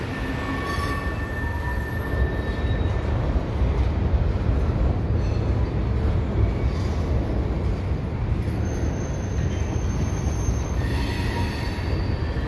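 CN freight gondola cars loaded with metal coils or wire roll past, a steady grinding rumble with wheel squeal running throughout, no voices.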